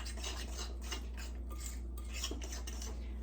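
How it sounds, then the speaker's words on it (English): Sourdough pancake batter being stirred in a bowl: faint, steady scraping with light clinks of a utensil against the bowl, quiet and continuous, with no talking. "All right, give it a quick stir."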